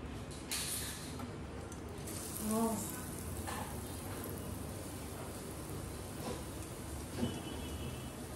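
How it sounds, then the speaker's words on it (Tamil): Egg bajji in batter frying in hot oil, a steady low sizzle and crackle running throughout with a few brief clinks and stirring sounds. "இப்போது நம்ம முட்டையெல்லாம் வந்துட்டு பஜ்ஜி போட்டுக்கலாம்."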